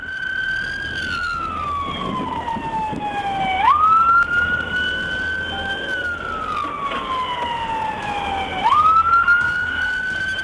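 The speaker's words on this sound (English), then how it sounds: "When McGuigan activated his lights and siren," A police car's wailing siren rises and falls in long sweeping cycles during a high-speed pursuit, loud and close over steady engine and road noise, with a brief burst as the tone resets.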